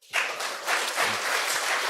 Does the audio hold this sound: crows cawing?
no